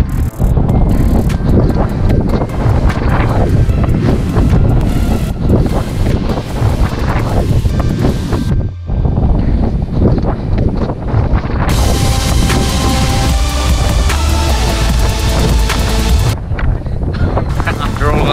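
Strong, cold wind buffets the microphone on a mountain hilltop near Pen y Fan, a loud continuous roar with gusts that drop out briefly.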